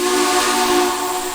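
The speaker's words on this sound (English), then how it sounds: "Pretty nice sounding whistle, I will say." A K&L Southern PS-4 steam locomotive whistle in the Trainz 2019 train simulator gives a loud, deep, steady blast that holds through the whole moment, easing slightly at the end.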